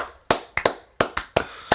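A few people clapping by hand, seven crisp claps in an uneven rhythm, close and loud with short decays, no talking over them.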